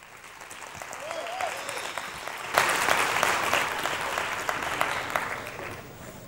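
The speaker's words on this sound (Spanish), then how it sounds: "Un aplauso." An audience claps at a web design conference in Zaragoza. The clapping swells into loud, dense applause about halfway through and holds steady to the end, with a brief voice heard near the start.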